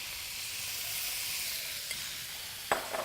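Beef mince sizzles and crackles steadily in a hot wok, a soft continuous frying hiss with a few sharper pops and stirring scrapes near the end.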